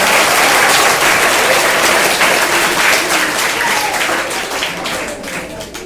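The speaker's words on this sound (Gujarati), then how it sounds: "એકવાર પાઠ માટે જોરદાર તાળી થઈ જાય" Loud, dense audience applause for a quiz contestant named Paath on a school quiz show, sustained and fading slightly toward the end.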